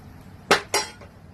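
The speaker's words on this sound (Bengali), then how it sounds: "আবার কড়াইটা বসিয়ে আমি তেল দিয়ে দিলাম।" A wok set down on a kitchen stove before oil goes in, giving two short, close metallic clanks about a quarter second apart, then quiet.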